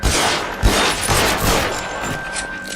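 Dense gunfire in the video game L.A. Noire, a sustained fusillade of overlapping shots with occasional heavier thumps, loud and continuous throughout without pause.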